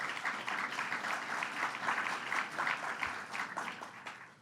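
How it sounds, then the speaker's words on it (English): Audience applause at a state government ceremony for a governor's executive order signing, a sustained wash of clapping from a crowd at moderate level, steady for several seconds before tapering at the end. "Let's give him a round of applause."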